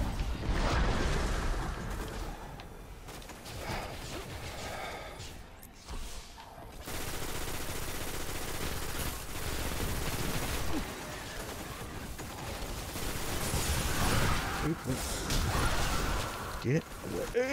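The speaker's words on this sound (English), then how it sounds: "Who's shooting me so hard?" Gunfire in the shooter game Destiny 1, dense bursts of shots and impacts rattling in close during a frantic firefight, with a player talking over the action throughout.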